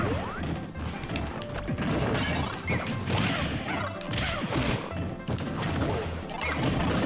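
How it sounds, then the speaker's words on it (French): In Super Smash Bros. for Wii U, a smash attack lands with heavy crashing hits and whooshing swipes amid loud, dense game action and effects, continuous throughout with no talking. "Alors là je vous ai fait mon smash"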